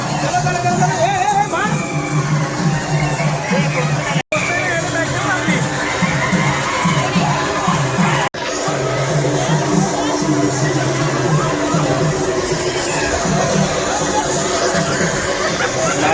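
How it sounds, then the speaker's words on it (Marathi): Busy crowd at More Water Park in Mahad, Konkan, with steady babble of many voices, distant shouts and splashing water continuing throughout, loud and dense. "गर्दी खूप आहे एकदम भरपूर."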